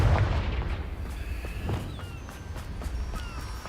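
A Confringo spell explosion in Hogwarts Legacy, a heavy low boom that rolls out and fades, with faint game ambience and small clicks after it.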